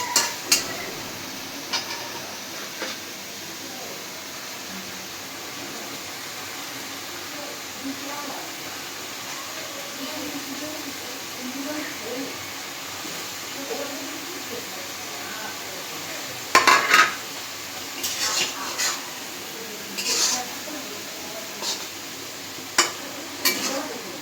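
Fish going into mustard paste and frying in a pan, a soft steady sizzle with occasional louder clinks and stirs of a utensil, while people talk faintly in the background.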